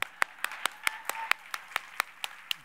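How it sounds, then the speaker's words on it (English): A small audience claps in a light, sparse rhythm, about a dozen distinct sharp claps evenly spaced and fairly close, rather than a full roar of applause. "Round of applause, please."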